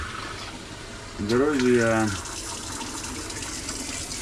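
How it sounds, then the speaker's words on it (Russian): Water rushes from a tap at a country house as the supply is opened, a brief louder surge of flow with gurgling after trapped air clears, then a steady hiss while someone talks over it. "Вот у нас пошла водичка."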